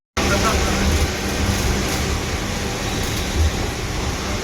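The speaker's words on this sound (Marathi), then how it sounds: "skilfully driving in heavy traffic Mumbai" An MSRTC night bus rolls through heavy, rain-slowed Mumbai traffic, a steady broad engine and road rumble with faint low hum, continuous from just after the start.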